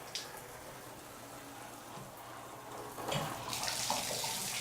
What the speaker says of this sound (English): Simply turn on the water pressure in here. See, there's very little water pressure.